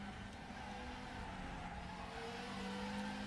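Volvo S40 Super Tourer, the TWR-developed touring race car, in the RaceRoom racing game, its engine droning steadily from outside the car as it leaves the pits, a continuous mid-level tone with faint tire noise.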